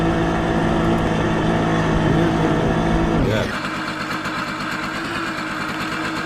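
Simson S51 moped engine in Farming Simulator 19, running steadily with a buzzy two-stroke drone, then dropping abruptly to a lower, quieter idle-like putter partway through; close and continuous with no talking.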